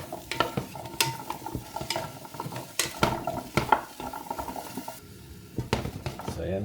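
Squash sautéing in a pan for kare-kare, with irregular clinks and scrapes of a utensil stirring against the pan over a soft sizzle, close and moderately loud.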